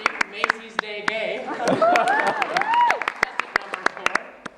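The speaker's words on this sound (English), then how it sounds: "you will be asked to vote with your applause" An audience at a contest claps sharply and individually at first, then swells into fuller applause with cheers and whoops in the middle, thinning back to scattered claps at the end.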